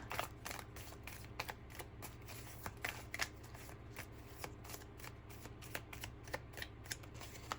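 Tarot cards are shuffled over and over, giving a steady riffling with repeated crisp slaps and flutters at close range, with no talking over it.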